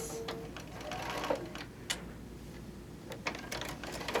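A sewing machine stitches a quilt seam, a quiet, steady mechanical whir with irregular soft ticks and clicks, heard alone at close range.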